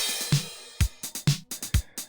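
Korg and Roland synthesizers with a Roland TR-505 drum machine play a Castlevania cover over MIDI: punchy kick and snare hits in a quick, steady pattern under bright synth tones, with no voices.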